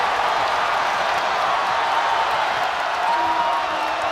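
A basketball arena crowd at PNC during a Duke versus NC State men's college game, a steady, loud roar of cheering that holds throughout without letting up.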